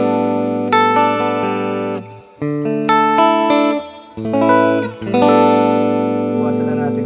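Sustained electric guitar chords through a Joyo Gem Box III ring out with a spacious plate reverb tail, each strum decaying smoothly before the next; a few notes shimmer brightly.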